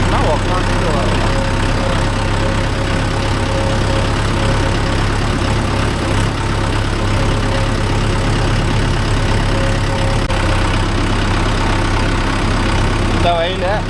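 A Mahindra Yuvo Tech Plus 585 4WD tractor engine drones steadily and loudly throughout, pulling a cultivator through a stony field, with voices talking over it.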